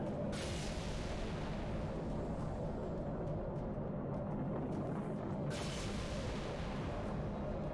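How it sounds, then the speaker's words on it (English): A MAC cannon fires from a flyable frigate in the game Halo Reach, heard as a loud, sustained roaring boom with a second heavy blast surging in later. "Oh, would you look at that? A functional Mac cannon."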